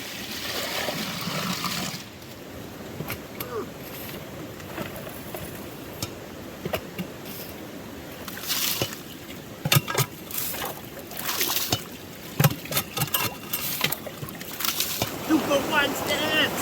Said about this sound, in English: fill it with water and get my yabby pump to work